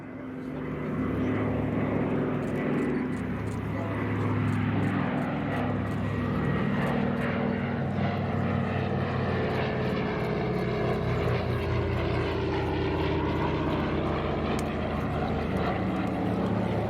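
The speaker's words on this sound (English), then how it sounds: "And there's the Western Airlines aircraft being flown by Joe Savage." A Douglas C-47 Skytrain flies past at the Duxford D-Day 80 airshow, its piston propeller engines giving a loud, continuous droning roar that stays steady and close throughout, with no talk over it.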